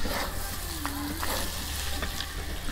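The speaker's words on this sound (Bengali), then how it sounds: "এই দেখো গরু ভুড়ি ভাজা হয়ে গেছে" Beef tripe fries in a pan, a steady close sizzle with a few faint stirring sounds over it, with no talking.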